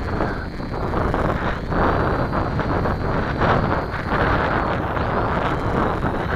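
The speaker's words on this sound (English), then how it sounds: "fighting this wind here" Wind buffets a microphone outdoors on a blustery day. A loud, continuous rumble pulses in gusts throughout, with a faint steady whine above it.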